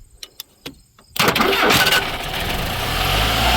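A 1983 Dodge K-car wagon with a five-speed, sitting for 30 years, gives a few sharp clicks before the starter cranks and the engine catches, settling into a loud, steady run nearby.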